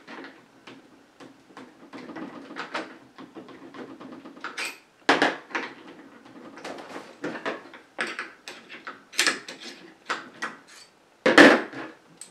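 Hard clicks, knocks and scraping of metal parts as the charging handle is worked out of a Hatsan Invader air rifle, a series of close, irregular sharp taps with short gaps, with no talking.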